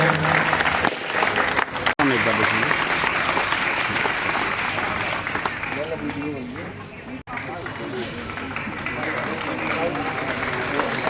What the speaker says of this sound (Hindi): सभी लोग तालियां बजाएं।